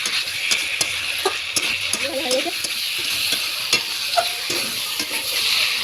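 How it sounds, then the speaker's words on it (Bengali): Boiled potatoes frying with spices in a pan, a soft steady sizzle with clicks and scrapes of stirring, close and alone. "ভালো করে একটু ভেজে নেব"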